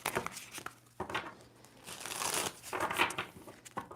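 A deck of tarot cards is shuffled by hand in several short bursts of riffling and crisp card slaps, with brief pauses between them.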